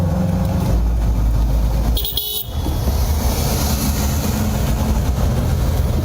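Morning road traffic at a hillside junction in Grenada, with vehicles rumbling past close by and a short car horn toot cutting through about a third of the way in.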